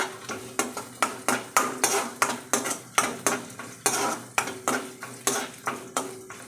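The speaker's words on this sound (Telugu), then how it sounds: "క్యారెట్ ముక్కలు వేసుకుంటున్నాను." Carrot pieces cooking in a pan for Bombay rava upma, heard as a steady run of sharp, evenly spaced ladle taps and scrapes against the pan, about two per second, over a faint sizzle.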